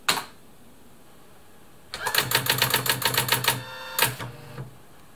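A short mechanical clack, a pause, then a fast rhythmic burst of printing strikes from a Brother LW-35 electronic typewriter, ending with a few final clunks.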